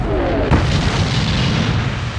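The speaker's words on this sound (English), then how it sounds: "the British and Americans are greeted with cannon fire from the Vichy French" A single heavy boom of cannon fire from a WWII North Africa landing, with Vichy French guns firing on British and American forces, followed by a dense, rumbling roar that fills the whole short stretch.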